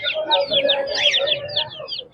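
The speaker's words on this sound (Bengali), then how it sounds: "এগুলো কি মুরগির বাচ্চা আছে?" Rhode Island chicken chicks at a pet market chirp and cluck rapidly in a close, busy cluster, short high peeps repeating over a steady tonal background.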